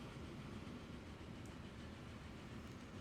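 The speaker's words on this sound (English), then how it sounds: "It's a pretty train." A train running in a steel-mill delivery video game, a quiet, continuous rolling rumble with faint clickety-clack and no voices.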